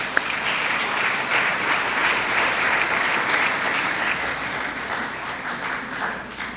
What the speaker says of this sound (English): Please applaud the parents.